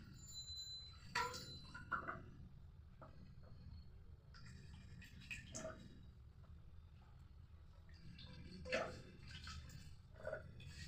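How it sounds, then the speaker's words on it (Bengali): Carrots are swished and handled in a bowl of water, with soft splashes and light clinks against the bowl now and then, quiet and close. "চলুন এবার ধুয়ে দিয়ে সব তুলে নিই গাজরগুলো।"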